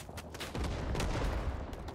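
Gunfire in the Vietnam War video game Rising Storm 2: Vietnam, heard as a dense burst of overlapping rifle shots and fusillade rumbling through the whole moment, somewhat muffled, with no talking.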